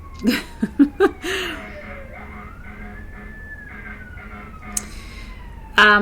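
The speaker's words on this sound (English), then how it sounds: "Cue siren." A wailing siren tone sweeps slowly up and down for several seconds, following a few short bursts of laughter at the start.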